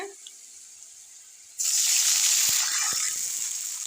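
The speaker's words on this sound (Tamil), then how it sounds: "தண்ணி ஊற்றியாச்சு" Quiet background, then water suddenly pours steadily into a pan of fried garlic with a loud rushing splash that continues, a few small knocks underneath.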